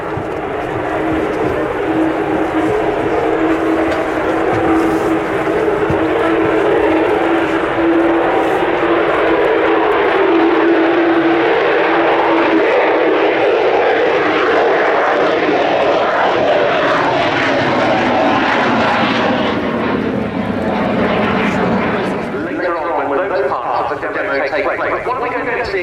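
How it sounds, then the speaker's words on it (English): A Lockheed U-2S spy plane begins its takeoff roll at the RIAT 2025 airshow, its loud jet engine roaring steadily and swelling as it accelerates, with a commentator talking over the noise. "it begins its takeoff roll from the right-hand end of the airfield"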